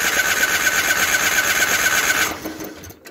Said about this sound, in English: we're going to crank it over to feed the system a little bit